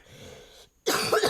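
A person coughs right into a microphone: a soft breathy rustle, a brief silence, then a sudden loud, harsh cough burst very close up.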